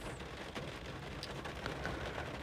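Steady rain falling outside in dreary weather, a constant soft hiss of drops spread evenly throughout, faint and distant behind an indoor room with no voices.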